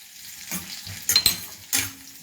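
Green chillies and ginger fry in a pan, with a few scraping stir strokes and bursts of sizzle over a low steady crackle, close by and with no talk.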